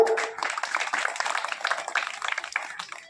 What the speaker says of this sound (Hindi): तालियां धीरे धीरे क्यों बजी